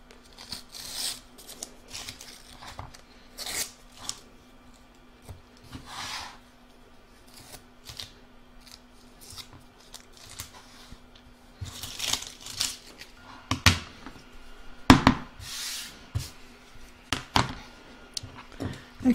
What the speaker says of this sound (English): It's now time to trim all the excesses off of the heart. So I'm going to remove all the tape.